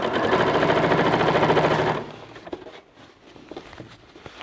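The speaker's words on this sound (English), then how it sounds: "I'll just stitch just under the armhole and just slowly open it up" A sewing machine stitches clothing just under the armhole, back tacking. A loud, steady, fast whirring runs for about two seconds, then stops, leaving quieter handling noises.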